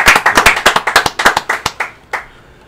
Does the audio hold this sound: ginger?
no